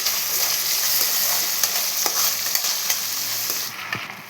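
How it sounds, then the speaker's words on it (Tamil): Tomatoes and onions fry in a pan with a continuous close sizzle, while a spoon stirs them with light, irregular clicks and scrapes against the metal. "இப்போ நம்ம தக்காளியை சேர்த்துக்கலாம். சேர்த்து நல்லா கலரி விட்டுக்கலாம்."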